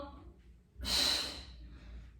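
One sharp, audible breath drawn in mid-exercise during an arm and shoulder workout, preceded by faint voice murmurs and trailing off into quiet breathing.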